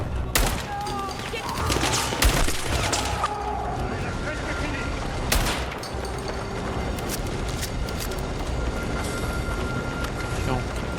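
Shotgun fire from an M1014 in Battlefield 6 during a civil war campaign in Egypt, a few sharp blasts early on, then ongoing distant battle rumble beneath people talking.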